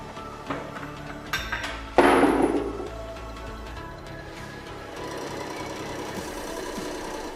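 A hydraulic press strains against a Soviet hammer, then a sharp crunching crack rings out, followed by a steady mechanical hum and rattling that continues to the end.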